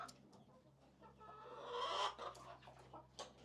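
A hen clucks in a series of short, near, moderately loud calls that swell in the middle, set against a steady low background hum, with no talking.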